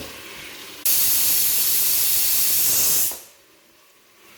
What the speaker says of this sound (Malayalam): അപ്പോൾ നമ്മുടെ ഫസ്റ്റ് വിസിൽ ആറായി